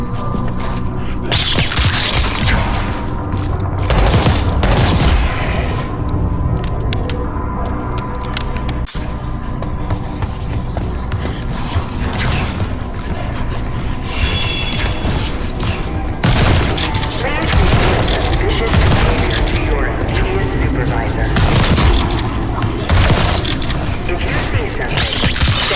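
Gunfire crackles through a Black Ops 6 campaign mission on PC: loud, continuous bursts of rifle fire and booming impacts, dense and relentless for the whole stretch with no talking.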